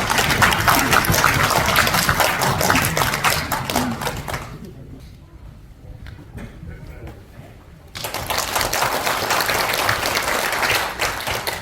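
An audience at a New Year reception gathering claps loudly, dies down to a quiet lull in the middle, then bursts into full applause again near the end.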